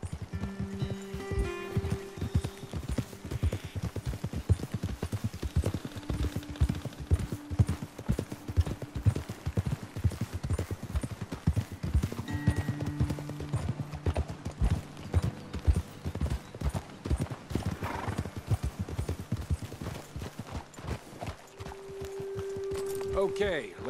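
Horse hooves clip-clop steadily and continuously as riders travel on horseback in the video game Red Dead Redemption 2. Voices talk over the hoofbeats throughout.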